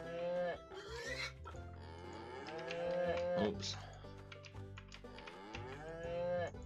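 Several cows moo in a barn in the Harvest Life farming video game, long overlapping lowing calls filling the scene, with a brief spoken exclamation partway through.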